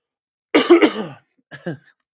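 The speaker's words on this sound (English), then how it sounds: "I'm so sorry for coughing so much" A person coughs up close: one harsh, throaty cough followed by a shorter, softer pair of coughs.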